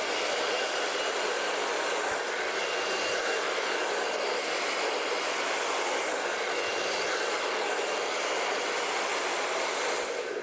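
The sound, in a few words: hair dryer blow-drying hair with a brush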